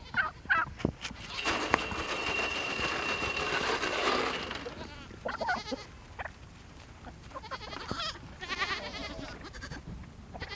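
Pygmy goats bleat and cry out repeatedly at feed time, a noisy chorus of overlapping calls close by, with fowl-like gobbling mixed in and brief stretches of quieter rustling between bursts.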